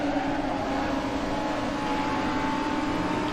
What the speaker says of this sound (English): You can hear the tire squealing.